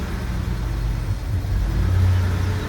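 Engine of a 1994 Nissan V6 pickup idling and pulling in reverse, a steady low, close rumble that rises slightly in level toward the end with no talking over it.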